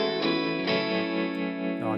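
An electric guitar played through a heavy rotary speaker effect gives sustained, swirling chords with a warbling, distorted shimmer, loud and alone.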